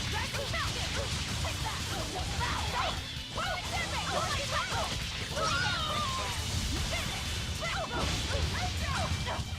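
A dog barks repeatedly in the Tales of Berseria video game, short yips and whimpers scattered through a busy, noisy game soundscape, fairly faint and mixed under other effects.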